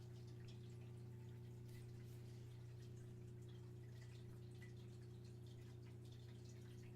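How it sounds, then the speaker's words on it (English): A fish tank water filter runs in a room, a quiet steady low hum with faint trickling water beneath, distant and continuous. "the fish tank that you think you're hearing"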